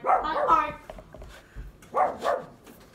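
A voice imitating a dog's barking comes in two close, loud bursts of yelping barks separated by a short pause, with quieter sounds in between.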